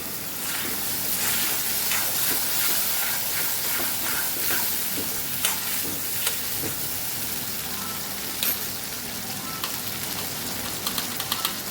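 Spiced masala frying in hot oil for a Kathiyawadi okra and potato curry, a steady loud hiss and sizzle running throughout with occasional sharper crackles and pops, no voices.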